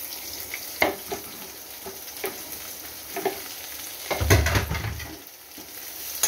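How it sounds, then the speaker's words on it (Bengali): Chopped onion frying in hot oil for potol bhorta, a steady close sizzle broken by repeated scraping stirs and a heavier clatter of the spoon in the pan. "এবার আমি কুচানো পেঁয়াজটা দিয়ে দিলাম।"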